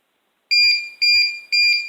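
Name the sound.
Call Easy pager alarm beeping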